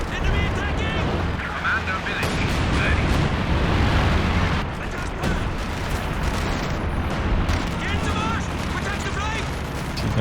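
Loiter airstrike in a Company of Heroes 2 match, a rolling barrage of heavy booms and blasts that rumbles continuously, loud and dense, with game voice lines and talk running over it.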